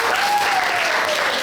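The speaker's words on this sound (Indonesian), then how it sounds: "tepuk tangan buat kita semuanya" A class of students claps together in a lesson, loud, dense applause that runs unbroken from start to finish, close and energetic.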